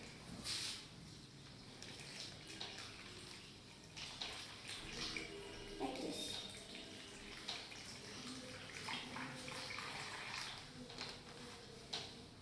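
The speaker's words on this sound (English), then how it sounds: "And then we will open our Ziploc bag like this, and then we'll pour our water in it." Water is poured into an open Ziploc bag for a grade-three water cycle experiment, a faint, quiet trickle and splash while a voice briefly speaks.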